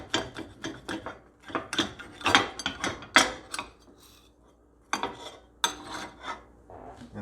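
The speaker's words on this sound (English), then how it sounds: "We'll go ahead and cut it in half." A knife saws through a breakfast sandwich built in one pan, cutting it in half with repeated rasping, scraping strokes close by, broken by short pauses.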